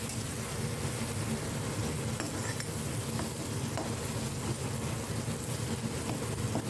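Sambar masala and dal roasting in a pan give a steady, close sizzle with soft stirring scrapes, a continuous dense frying hiss with no voices.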